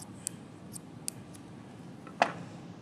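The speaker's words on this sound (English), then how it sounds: "we're going to take our balloon and we're going to cut the very end of the balloon off" A few small, sharp snips of scissors cutting the end off a rubber balloon, quiet and close in a calm room, with a slightly louder final snip.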